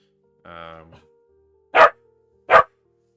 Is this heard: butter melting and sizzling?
no